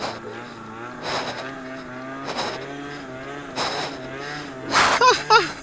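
A motorcycle engine revs through a wheelie, its pitch rising and falling in repeated throttle surges. The engine is close and moderately loud, with a brief squeal near the end.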